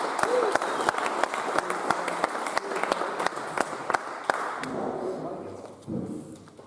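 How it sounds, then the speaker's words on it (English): An audience at the 2017 World Pinball Championship finals in Copenhagen applauds with many sharp individual claps, the clapping fading out as a voice carries on afterward. "Another round of applause for Max Runston."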